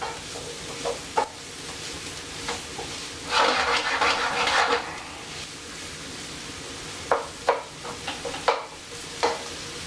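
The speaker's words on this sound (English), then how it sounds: "We're going to put in our garlic." Garlic sizzling gently in a pan while making cauliflower risotto, a soft steady frying hiss with a louder crackling stretch and occasional scraping stirs of a utensil against the pan.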